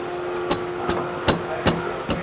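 A shaft on a Ski-Doo 850 Summit snowmobile is bumped by hand into its chain case, giving five evenly spaced, sharp knocks over a steady low background hum.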